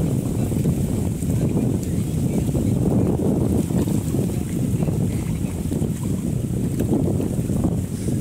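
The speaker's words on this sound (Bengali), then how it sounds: "প্রচণ্ড ঢেউর কারণে নৌকা 10 থেকে 12 হাত পিছিয়ে চলে যাচ্ছে" Steady, rough rushing water of the Padma River with heavy low-end turbulence as waves push against a boat, continuous throughout with wind buffeting the microphone.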